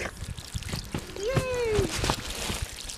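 Water trickling and splashing from an off-grid laundry wringer setup, a soft continuous dribble with small splashes, a short voiced exclamation rising over it midway.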